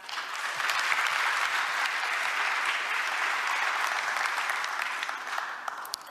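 Audience applause at a Korean government presentation of a five-year national policy plan, a steady, even wash of many hands clapping from a sizable crowd, swelling slightly and then easing toward the end.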